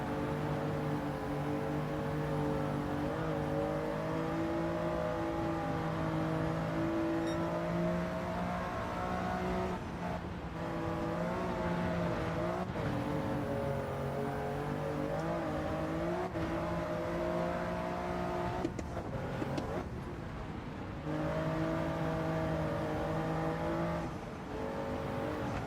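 A Toyota Yaris race car in a racing video game, its engine droning steadily with rising and falling pitch as it shifts through the gears, continuous and fairly loud.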